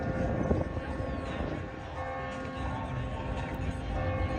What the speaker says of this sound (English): So this is the bells of Clérigos.